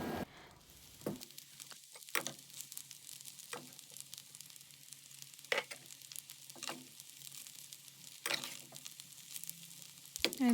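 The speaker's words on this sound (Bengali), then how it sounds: "ডিম দিয়ে ভালোভাবে নাড়াচাড়া করে নিচ্ছে যাতে ভালোভাবে ডিমগুলো নিচে যায়" Pasta and eggs stir-frying in a pan, a low steady sizzle with periodic sharp scrapes and knocks of a spoon stirring, close and fairly quiet, no talking.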